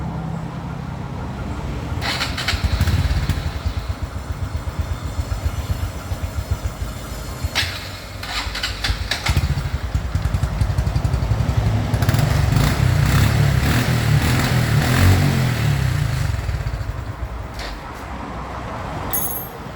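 A 2014 Honda Wave 110i fuel-injected motorcycle that is hard to start idles close by with a steady low putter. The engine revs up louder and rougher around the middle, then settles back down, with no speech.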